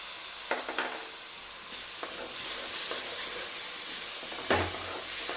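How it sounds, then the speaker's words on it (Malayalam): Tomatoes sautéing with turmeric and salt in a hot pan, a steady close sizzle and hiss with a few scraping stirs of a spoon. "നന്നായിട്ടൊന്ന് വഴറ്റുന്നു"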